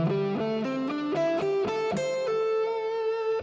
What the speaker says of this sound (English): you've got to learn something that's called the minor pentatonic scale to get started with